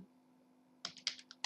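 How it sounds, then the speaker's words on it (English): A handful of quick, quiet computer keyboard keystrokes tapped close by, with a faint steady hum underneath and no talk. "Now type the file"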